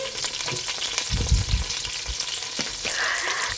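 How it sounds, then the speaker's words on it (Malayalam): Green chili and garlic-ginger paste sauté in a pan for fish curry, a steady broadband sizzle with spoon scrapes and a few heavier low thumps of stirring midway, close and continuous with no talk. "കുറച്ച് പച്ചമുളകും അതുപോലെ വെളുത്തുള്ളി ഇഞ്ചി പേസ്റ്റാട്ട ഞാട്ടിരിക്കുന്നത് അതും ഇട്ടിട്ട് നന്നായിട്ടൊന്ന് വഴറ്റി കൊടുക്കും"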